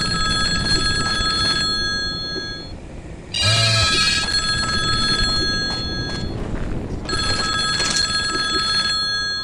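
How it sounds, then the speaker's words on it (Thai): A telephone ringing in the horror video game Bear Haven Nights, a loud electronic ring repeating in bursts with short gaps, heard over low background game noise. "แล้วโทรศัพท์ห้องไหนมันดังอีกแล้วนี่"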